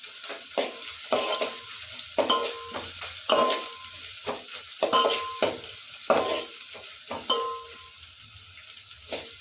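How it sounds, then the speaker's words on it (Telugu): Garlic frying in a pan, with steady crackling sizzle broken by repeated scraping stirs of a utensil against the pan, close and fairly loud. "వెల్లిపాయలు మంచిగా వేగేలా చూసుకోవాలి."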